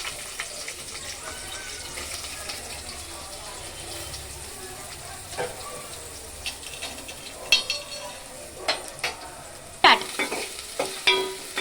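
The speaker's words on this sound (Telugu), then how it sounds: "ఇక్కడ పక్కన బగోన్లో బగారా రైస్ కోసం ఉల్లిగడ్డలు వేసుకోవాలి మంచిగా" Onions fry in a deep cooking pot for bagara rice, giving a steady close sizzle. Spoon scrapes and clatters from stirring grow busier toward the end.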